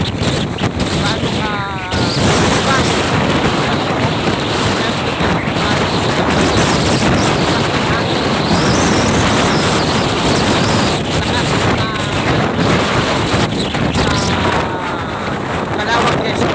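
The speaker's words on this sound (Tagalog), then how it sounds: "Pero yung hangin sobra." Strong wind gusts roar and buffet the microphone in Calawag, Quezon, a loud, continuous rushing that swells and eases over the span, with a voice speaking briefly beneath it.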